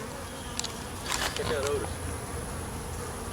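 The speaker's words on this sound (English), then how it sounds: "It is chock-a-block full of bees." Bees buzz steadily inside a packed beehive, a dense continuous hum close by, while someone talks briefly over it.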